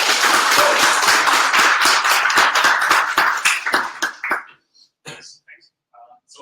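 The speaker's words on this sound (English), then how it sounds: "Give me one big applause for our focus." Audience clapping at a PHP developers' meetup, a dense burst of applause from a roomful of people for about four seconds that thins into a few scattered claps and fades to near silence.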